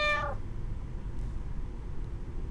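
A cat in the video game Twilight Syndrome Special gives one short, clear meow right at the start, followed by quiet low background hum with no talk.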